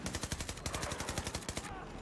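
Rapid automatic gunfire in the video game Battlefield 2042 rattles in a dense, loud, evenly spaced burst lasting about two seconds, with no speech over it.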